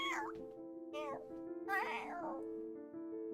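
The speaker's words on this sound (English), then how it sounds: "pounces out a lazy squeak that sounds like it came from a much smaller cat" A cat squeak sound effect from the video game Pesterquest, coming as several short, high meows and squeaks one after another over a steady background tone, close and clear, with no talk.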